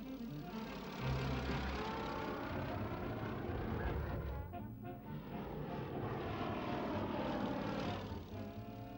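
A propeller aeroplane, Hawker Hurricane era, drones overhead with a steady engine hum, dipping briefly midway before swelling again, moderately distant and continuous with no talk.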